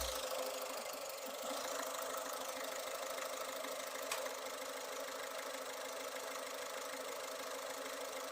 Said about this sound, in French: le ralenti moteur est bien régulier